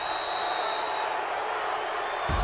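Broad, steady roar of a stadium crowd in an American football video game, a loud continuous wash of noise with a faint tone fading out partway through.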